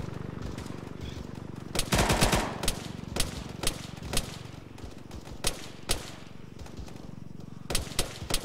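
Automatic gunfire in the video game Cherokee Rising, with a dense burst followed by scattered single shots and short volleys, loud and sharp over a constant rumbling backdrop.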